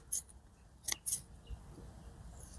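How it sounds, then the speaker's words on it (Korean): Scissors snip the stems and leaves off freshly dug ginger in a garden, a few quick, faint, crisp clicks close by, two of them in rapid succession, against a soft outdoor background. "생강을 이렇게 캐고 나면 바로 줄기와 잎을 잘라줍니다"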